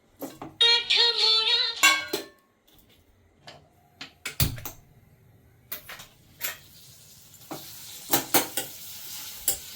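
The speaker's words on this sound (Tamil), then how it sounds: "இன்னும் நம்ம தாளிசம் பண்ண போகிறோம்" Tempering spices crackle and sizzle in a pan for peerkangai kootu, heard as short bursts of frying and stirring with scrapes and clatter, loud at first and then scattered in smaller hits.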